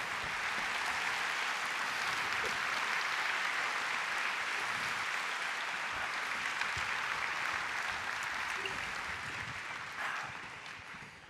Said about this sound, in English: could we also just give a big round of applause to Markus Tervo, one of the best magicians in the Nordics